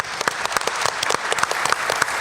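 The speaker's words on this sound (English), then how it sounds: "Round of applause for our panel, please." Conference audience applauding a panel at a TiEcon business event, a steady wash of many hands clapping with sharp individual claps standing out, loud and continuous for the whole stretch.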